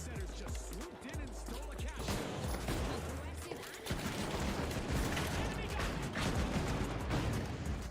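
Constant shotgun blasts and grenade launcher explosions in a Call of Duty-style multiplayer match, dense and overlapping, with heavier booms partway through and players talking over the din.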